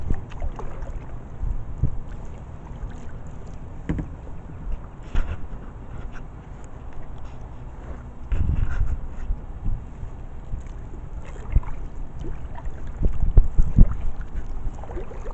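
Kayak being paddled across open water, with soft, irregular splashes and dips of the paddle under steady wind buffeting the microphone and a low rumble throughout.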